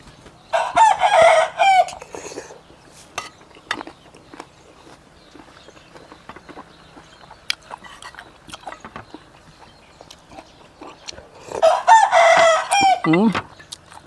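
A rooster crows loudly twice, one long call near the start and another near the end, with quiet scattered clucks and small knocks in between.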